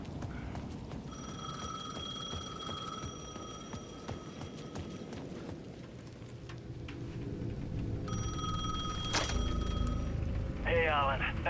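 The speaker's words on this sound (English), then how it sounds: "The payphone at the edge of the plaza was ringing again." A payphone rings in Alan Wake 2: a bright, steady electronic ring sounds for a few seconds, pauses, then returns in a second burst over a murky, rumbling ambience.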